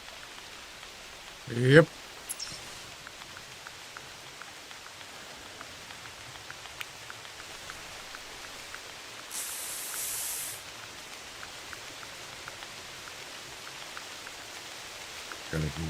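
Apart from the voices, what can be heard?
rain in the video game theHunter Classic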